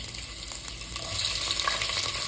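Mustard seeds and ginger sizzle and crackle in hot oil, a loud, close, continuous frying hiss with scattered pops that builds slightly toward the end, with no voices.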